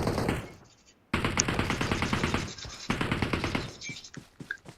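Rapid automatic gunfire from PUBG on the Livik map crackles in sharp bursts, with a brief pause before a long, steady stream of shots that thins into scattered single pops near the end.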